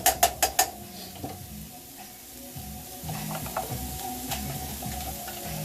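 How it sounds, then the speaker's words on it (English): Hash browns stirred in a pan: a quick burst of four sharp metallic clicks, then a soft sizzle with light scraping strokes, close by and with no talk. "I ain't going to do nothing but stir these up a little bit"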